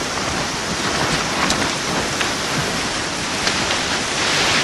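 Heavy steady rain falling over a wet bush camp, a dense, loud, unbroken wash of patter with faint scattered drops standing out, no voices.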